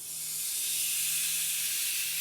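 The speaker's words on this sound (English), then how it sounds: "So you can hear that sizzling." Chicken breast, lightly oiled, sizzles on a grill with a steady bright hiss that swells slightly at the start and holds evenly, close and alone.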